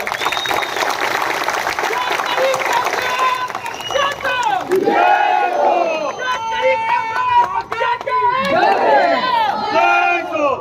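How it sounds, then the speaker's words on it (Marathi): Crowd at a Marathi political rally breaks into loud, sustained cheering and whooping, a dense roar of many voices that swells through the whole stretch with shouts rising above it. "एकदा जोरदार जल्लोष होऊ द्या"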